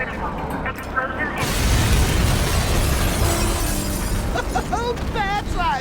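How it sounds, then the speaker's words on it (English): A loud burst and sustained rumbling blast in the Batman: Arkham Knight video game, with a crash at the start and a dense roar that lingers, followed by chirpy electronic effects near the end. "Explosion"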